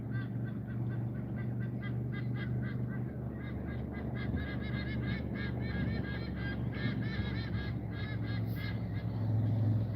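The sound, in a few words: birds honking near a river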